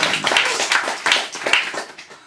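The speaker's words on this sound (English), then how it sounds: "so more applause." Clapping from an audience after a poet's reading, a short burst of close, dense hand claps that fades slightly toward the end, with no talk.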